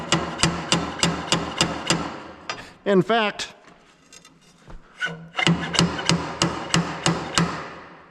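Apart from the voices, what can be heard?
hammering a bearing onto a shaft with angle iron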